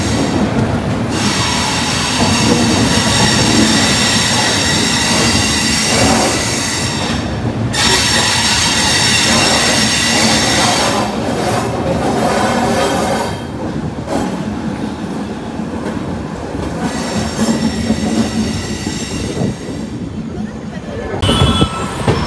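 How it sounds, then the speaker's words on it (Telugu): A Bangalore to Delhi train pulls out of Majestic railway station with a steady, loud rumble of wagons and rail noise, including wheel squeal and clatter, continuous throughout with brief dips. "మెజెస్టిక్ రైల్వే స్టేషన్ నుండి ఇప్పుడే బయలుదేరింది ట్రైన్"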